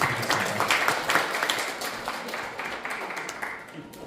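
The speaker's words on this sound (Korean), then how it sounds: "다시 한번 큰 박수로 축하해 드리겠습니다" Audience at a Korean arts critics' award ceremony in a hotel hall applauding a young artist prize winner, a moderate wash of many hands clapping that stays fairly steady and tapers gently over a few seconds.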